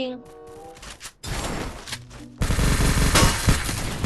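Gunfire in the Free Fire battle royale mobile game, a dense burst of rapid shots that grows louder and more continuous partway through, with players talking over it.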